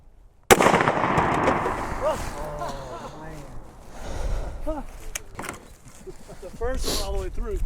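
A single sharp, loud gunshot from a Winchester Silver Tip expanding round, fired close by, cracks at the start and rings off, followed by people talking.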